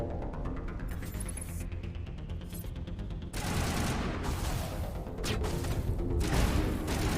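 Rapid bursts of automatic gunfire from a Mass Effect Legendary battle, loud and dense, dropping briefly and then resuming heavier, with mechanical clanks mixed in.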